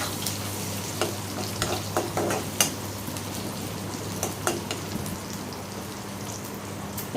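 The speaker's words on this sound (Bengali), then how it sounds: "ভালো করে পেঁয়াজটা ভাজা নিব।" Onions fry in a pan for a pumpkin-greens and prawn dish, giving a soft, even crackling sizzle with scattered sharp pops and stirring clicks under a low steady hum.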